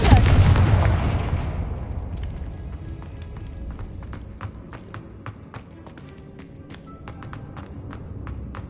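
A Confringo fire spell blasting in the Hogwarts Legacy game: one loud booming explosion that decays over about two seconds, followed by scattered sharp clicks and taps over a low rumble.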